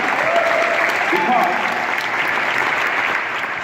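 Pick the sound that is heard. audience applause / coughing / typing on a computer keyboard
audience applause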